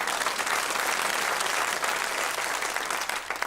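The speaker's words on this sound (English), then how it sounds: "Give him a round of applause." Studio audience applause for a guest on a comedy chat show, a steady, dense burst of clapping that stays loud and even throughout with no talking over it.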